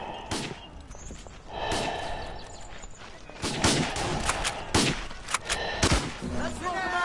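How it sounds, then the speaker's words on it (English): World War One rifle and gun fire in the game Verdun, a rapid burst of loud, sharp shots, close and irregular, some overlapping in quick volleys, with a voice briefly heard. "That's what I call panic shooting"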